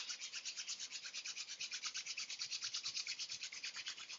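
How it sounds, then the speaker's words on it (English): Palms rubbed briskly together to build warmth before a breathing exercise, a quiet, steady rhythmic rasping swish repeating many times in fast back-and-forth strokes, with no voice over it. "Rub your palms together, create some heat."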